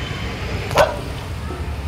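A single short dog bark or yip, close by and over quiet background noise, in an outdoor setting where fireworks are going off.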